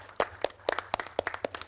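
Hands clap in a steady, fairly quick rhythm, about a dozen distinct claps from a small audience at the Dadasaheb Phalke International awards, cheering actor KK Menon for his Most Versatile Actor honor; moderately loud and close, no talking.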